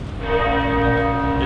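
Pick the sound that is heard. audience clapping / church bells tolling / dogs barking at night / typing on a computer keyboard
church bells tolling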